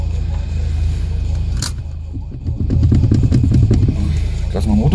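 Close car engine idling with a low, steady rumble from inside the car, a brief click partway through, then a rougher, slightly louder throb; the car has a failing battery.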